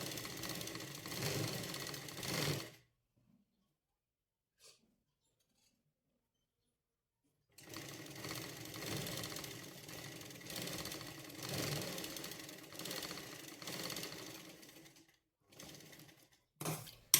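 A sewing machine stitches a sleeve seam in two steady runs of fast mechanical whirring, split by a few seconds of silence, with short bursts near the end.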